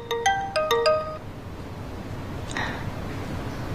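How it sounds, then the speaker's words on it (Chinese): Incoming-call phone ringtone plays a short repeated melodic chime pattern loudly, then stops, followed by a faint click and quiet room tone. "我接个电话。"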